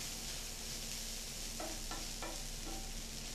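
Paneer and corn bonda filling sautéing in a pan, a constant soft sizzle with a few faint scraping stirs of a spatula near the middle, quiet and alone.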